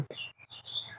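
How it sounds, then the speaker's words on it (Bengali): Birds chirp in short, high tweets that come and go over a faint background beside a village wetland, with no talking. "পাখিগুলো কিচিমিচি করতেছে"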